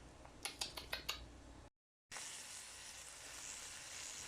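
Bacon starting to sizzle in a pan, a steady faint hiss broken by a few quick clicks and taps near the start, then a short silence before the sizzle returns.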